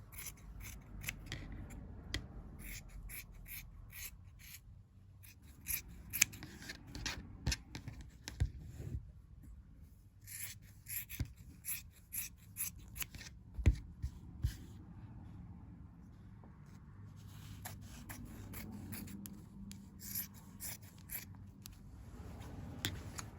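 Scissors snipping the corner of coat fabric at a sewing table, a run of crisp, irregular close-up cuts and rustling cloth over a quiet room, no voices.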